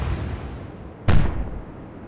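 Warship guns fire a single booming salvo midway through a naval battle in the video game Atlantic Fleet, a sharp loud burst with a rumbling tail over a steady low background.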